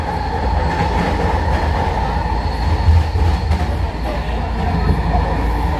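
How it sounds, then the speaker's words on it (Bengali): A SkyTrain metro car running from Surrey to Burnaby, British Columbia, gives a steady, loud interior rumble with constant rolling wheel and motor noise throughout, no voices standing out. "স্কাই ট্রেনে চড়লাম।"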